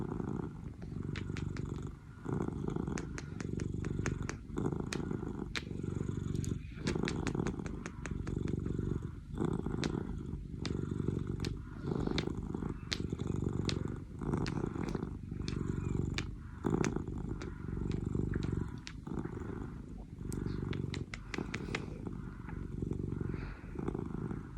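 A kitten purrs steadily and loudly while being held and cuddled, a continuous close rumbling broken by soft rhythmic breaths and small rustles, with no talking.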